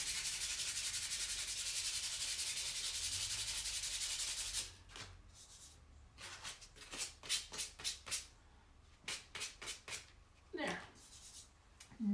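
White paint on an Easter egg is sanded by hand to distress it, first as a steady continuous rasp, then as a run of short scratchy strokes in quick bursts, close and fairly quiet.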